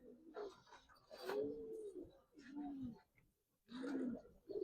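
Coloring Giribaz pigeons at a farm give a series of close, distinct throaty coos in a few separate bursts with short pauses between, quiet and clear against a still background.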